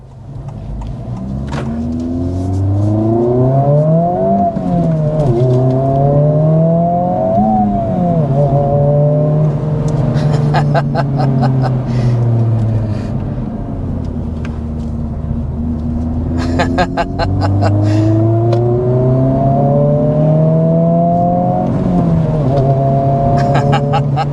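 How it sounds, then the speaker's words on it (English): A 2024 Honda Civic Type R engine revs hard and climbs through several gears, pitch rising and dropping at each shift, loud and close throughout. "the time has finally come for us to drive this Civic Type R"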